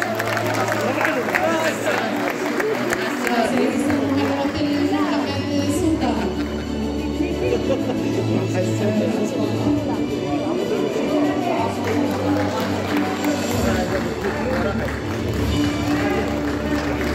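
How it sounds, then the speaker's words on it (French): An audience claps at a film festival award ceremony in Al Hoceima, sustained applause over a low, steady musical bed, with crowd noise and some voices mixed in throughout. "Vos applaudissements, mesdames et messieurs."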